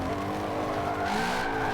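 Racing car in Forza 7 on Xbox One X, a naturally aspirated engine holding a loud sustained roar with tire squeal layered over it, heard close and continuous for a brief moment.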